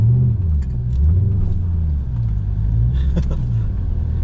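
A Chevrolet Camaro SS SLP engine rumbles steadily from inside the car on a ride-along, a loud, continuous low drone with slight swells in pitch as it pulls, no talking over it.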